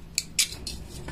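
Scissors snip through a yarn tail during knitting: two quick, crisp metallic cuts close by, then a softer clink, with no talking.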